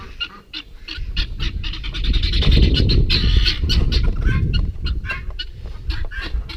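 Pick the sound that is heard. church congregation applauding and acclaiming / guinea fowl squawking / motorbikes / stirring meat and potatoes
guinea fowl squawking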